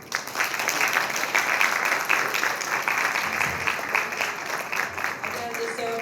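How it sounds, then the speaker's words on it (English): Audience applause at a tourism expo, a steady wash of clapping from a crowd that holds for several seconds, with a voice over a loudspeaker talking across it. "Again, deserved round of applause for Senator Delano."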